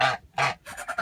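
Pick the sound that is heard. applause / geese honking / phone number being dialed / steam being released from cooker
geese honking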